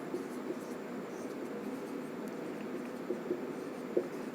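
Chalk or marker writing a potassium iodide chemical formula on a classroom board, soft scratchy strokes with a few small taps over a steady hiss of room noise.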